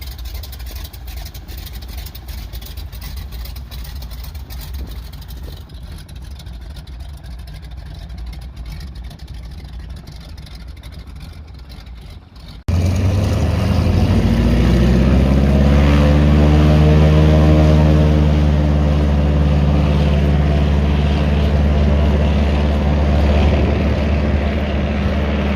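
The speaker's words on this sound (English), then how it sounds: "After the float plane took off," Float plane on a lake in the Wabakimi wilderness roaring up for takeoff, a quiet ambient stretch giving way suddenly to loud, sustained engine and propeller drone that stays close and steady.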